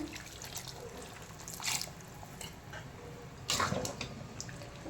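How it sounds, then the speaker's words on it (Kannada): Water splashes and trickles into a pot of drumstick curry in two short bursts, fairly faint against a quiet room. "ಈಗ ಇದಕ್ಕೆ ನೀರು ಹಾಕ್ಕೊಳ್ತಾ ಇದ್ದೀನಿ."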